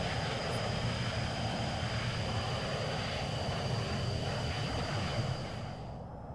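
Steady, loud jet engine roar from an EF-24G fighter in the VTOL VR flight game, flying a carrier landing pattern, holding a constant broadband drone and easing off slightly near the end.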